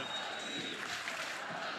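A college softball stadium crowd at an NCAA Tournament Super Regional between Oklahoma and Alabama, rising to its feet with a steady, distant wash of cheering and murmur that stays at a low, even level throughout.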